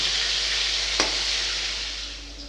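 Rohu fish pieces frying in a pan, a loud continuous hissing sizzle with a single sharp tap near the middle, fading slightly toward the end.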